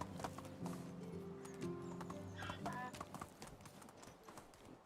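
Horse hooves clip-clopping steadily while riding in the video game Medieval Dynasty, with a musical background and someone talking over the hoofbeats.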